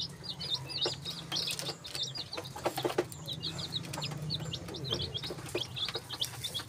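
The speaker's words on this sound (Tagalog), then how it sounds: "Marami akong manok dito guys." Chickens on a farm, soft clucks and high chirps from several birds scattered across the clip, fairly faint over low background hum and occasional knocks.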